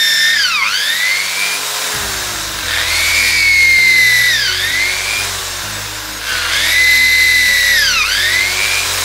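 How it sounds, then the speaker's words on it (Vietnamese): Power drill boring a single test hole into a red rosewood (sưa đỏ) trunk, loud whining bit with repeated rising and falling pitch sweeps as it bites into the wood, close and continuous. "khoan kiểm tra thì ta khoan một lỗ thôi"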